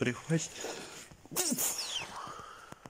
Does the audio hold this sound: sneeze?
yes